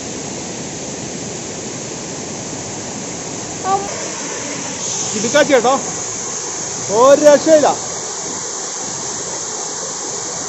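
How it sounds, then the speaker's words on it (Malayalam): Little-known waterfall in Kannur district, a loud continuous rushing roar close by, with people talking briefly over it. "നമ്മൾ അന്ന് പോയ വെള്ളച്ചാട്ടത്തെക്കാളും സൂപ്പറാട്ടോ, അടിപൊളി."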